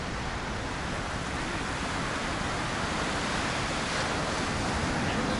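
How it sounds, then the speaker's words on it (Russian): Sea waves wash against the coast at Alanya, Turkey, in December, giving a steady, broad hiss of surf with no distinct breaks. "Вот такое вот оно море в декабре"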